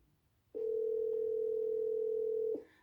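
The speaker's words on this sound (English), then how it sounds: "Somebody's phone's on." A telephone left on emits a steady, unbroken dial tone for about two seconds, clear and alone in a quiet room, then it cuts off.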